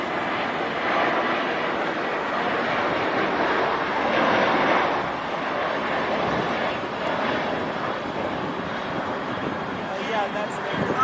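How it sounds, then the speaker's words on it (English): An older Southwest Boeing 737-700 airliner rumbles steadily at a large airport, a loud continuous engine roar with a slight swell in the middle, while people talk over it throughout. "And here's that older Southwest 737-700 that we saw earlier."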